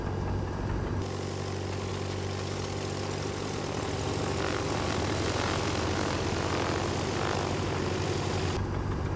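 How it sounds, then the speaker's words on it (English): Twin piston engines of a Duchess Model 76 light aircraft running after start-up in X-Plane 12, a steady loud propeller drone with a low throbbing rumble, holding evenly near and continuous without speech. "And now we have a good start on both engines. Very nice engine sounds and animations."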